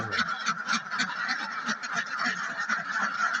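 A crowded flock of ducks honks and quacks continuously, close and loud, calls overlapping in a dense, busy chorus.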